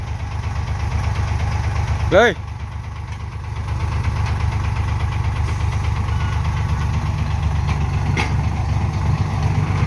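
A truck engine idles and rumbles steadily and loudly while crushed rock is poured, a continuous low drone with a brief rising whine near the start; a voice talks over it.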